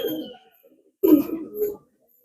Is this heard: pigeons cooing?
yes